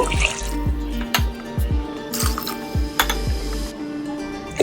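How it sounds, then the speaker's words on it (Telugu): Water pours into a pot of toor dal for Andhra-style pappu charu, with a string of rising glugging drips and splashes at close range, repeated in quick succession as the pot fills, heard alone without talk. "దీంట్లోకి నేను 3 కప్పుల వాటర్ యాడ్ చేస్తున్నాను"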